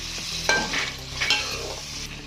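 A spoonful of vinegar goes into sizzling karahi gosht, setting off a brief burst of hissing and bubbling over the steady fry, with stirring scrapes close by.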